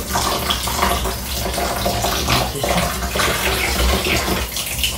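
Steady running water streams from a tap over a hair topper being wetted for washing, a continuous loud broadband rush with no talk over it.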